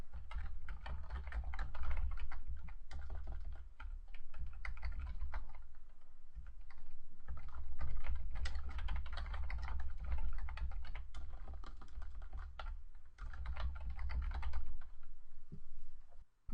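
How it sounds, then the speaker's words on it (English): Steady computer keyboard typing fills the passage, rapid irregular keystrokes clicking close by in short bursts with brief pauses, while importing a computer inventory spreadsheet on a business site. "so why don't I just type that in"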